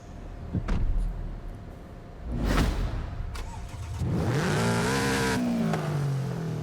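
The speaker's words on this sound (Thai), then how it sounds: "เดี๋ยวมาฟังเสียงเครื่องยนต์ตอนสตาร์ทกันดีกว่านะฮะ" A 2013 Toyota 86 engine in Forza Horizon 5 cranks and catches, then settles into a steady, rising idle hum that holds loud and close, with a brief mechanical whir before it.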